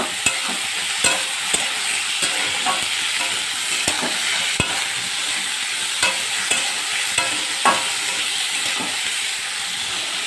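Ivy gourd and potato frying in a pan give a loud, continuous sizzle, broken by repeated scraping knocks as a utensil stirs them.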